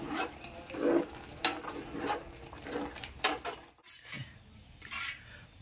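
Chicken curry with masala stirred in a pot, a spoon scraping and clinking against the metal in irregular strokes, close and moderately loud with a faint sizzle underneath.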